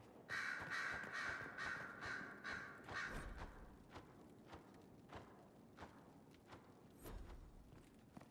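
Crows cawing in Dragon Age Inquisition, a run of harsh caws repeating across the first few seconds, then fading into scattered thumps and footsteps with faint ambient background.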